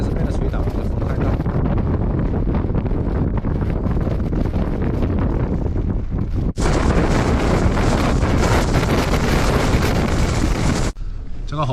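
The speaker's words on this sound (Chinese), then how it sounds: "我自行车也被大风吹倒了，还锁着还是被它吹倒了，这风太大" Strong wind buffets the microphone at an outdoor campsite in a gale that knocked over a locked bicycle, a loud, continuous roar throughout that surges harder midway and then drops briefly near the end.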